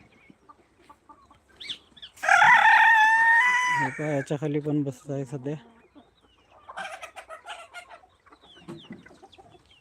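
A desi rooster crows loudly and close on a farm of home-bred native hens, followed by a run of rapid clucking and softer bird calls, with someone speaking briefly in between.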